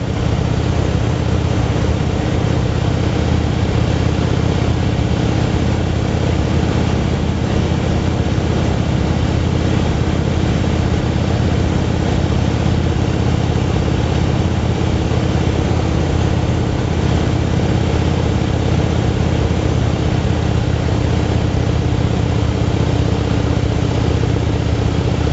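Motorcycle engine droning steadily on a country back-road ride through Piedmont North Carolina between Hurdle Mills and Roxboro, loud and close with constant wind rush and no breaks.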